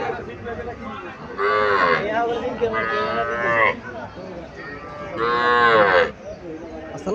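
A Sahiwal calf at a cattle market in Cumilla lets out three long, loud moos, each a drawn-out nasal bellow close by, separated by short pauses over a murmur of market background.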